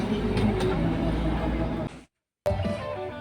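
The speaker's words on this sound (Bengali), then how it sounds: "দেখতে পাচ্ছেন টয় ট্রেন গেল" Darjeeling toy train rolling past at close range, a loud continuous rumble and clatter that cuts to a brief silence before resuming.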